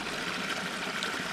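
Spring water trickles into a concrete well in a village, a soft, continuous close-up burble of running water with no voices.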